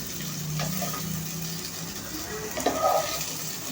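Something that was dry-roasted earlier is being stir-fried in a pan for a dhaba-style dish, giving a steady close sizzle with a few scraping stirs and a brief clatter near the end.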